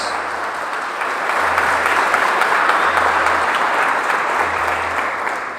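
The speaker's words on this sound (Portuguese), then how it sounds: "Então você pode aplaudir a Ele por isso?" A church congregation breaks into sustained, dense applause during a worship service, steady and full for several seconds with no voices standing out.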